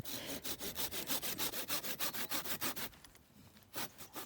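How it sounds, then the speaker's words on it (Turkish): A hand saw rasps back and forth through a cherry tree branch in quick, even strokes, then pauses briefly before a couple more strokes, close and fairly quiet. "Ağacı kesiyoruz şu anda."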